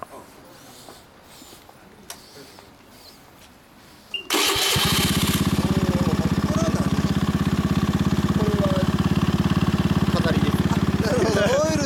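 A 2013 Honda Zoomer-X JF52 scooter with a custom ADIO muffler starts up abruptly after quiet background voices, then idles with a steady, loud, buzzing single-cylinder thump close by.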